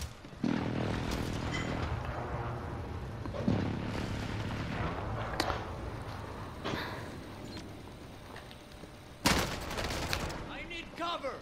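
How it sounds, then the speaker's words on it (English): Heavy explosions from an enemy precision airstrike in Call of Duty Warzone, several booming blasts spread across the clip with one sharp loud hit near the end, mixed under continuous game noise and a player talking. "Enemy precision airstrike."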